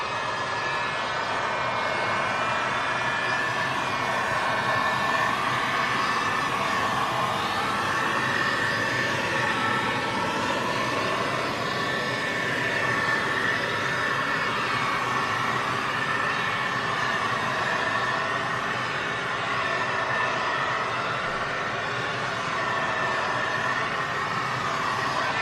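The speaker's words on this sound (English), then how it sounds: "I'm just going to warm up those moulds with the heat gun." A heat gun warming wax melt moulds blows a steady, loud, unbroken whooshing hiss that stays close and constant throughout.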